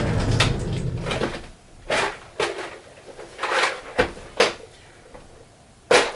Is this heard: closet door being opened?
yes